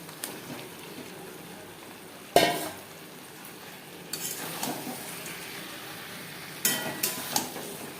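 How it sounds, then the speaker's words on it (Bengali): Eggs and potatoes stirred in spice paste in a pan for egg khichuri, with soft frying sizzle under a few sharp scrapes and clanks of a utensil against the pot. "মশলার সাথে ডিম আর আলু 2-3 মিনিট নাড়াচাড়া করে নেব"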